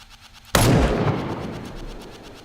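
A single loud gunshot bursts out in a video game, a sudden heavy blast that rings and decays slowly, with no talking over it.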